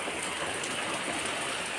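Steady rain falls during a stormy night, giving a constant, even hiss of drops with no break across the short stretch.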